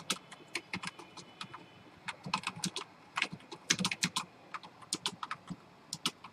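Typing C++ code on a computer keyboard: a steady run of quick, crisp key clicks in irregular bursts, close and moderately quiet, with no talking.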